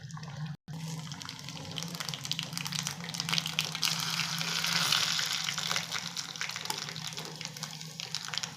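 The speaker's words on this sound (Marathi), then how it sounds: "आपण तिला तडका मारणार आहोत।" A hot tadka of oil and spices hits methi bhaji, a Marathi-style fenugreek dish, giving an even, close sizzle that holds steady throughout with no talking.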